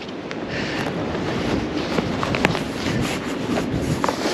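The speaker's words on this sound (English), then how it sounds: "the wind's just picked up." Gusty wind buffeting the microphone at a lakeside carp fishing spot in winter, a continuous broadband rush that swells and wavers without voices.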